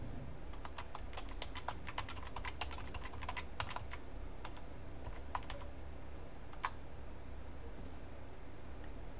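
Typing on a computer keyboard to enter a password: quick, light key clicks in irregular bursts, close and fairly quiet over a steady background hiss, with no talking.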